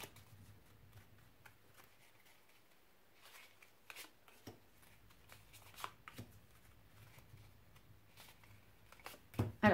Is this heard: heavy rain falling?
no